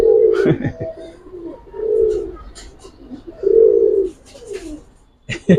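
Pigeons coo in repeated low, rolling phrases close by, several distinct bursts spread across the moment, among show-quality Giribaz and coloured breeds, with scattered background noise and clicks between calls.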